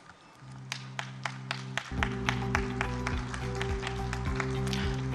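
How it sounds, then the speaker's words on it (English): Steady clapping from a crowd at a dairy industry conference, with sharp individual claps standing out over a sustained low hum and music-like tones. "we give a big clap"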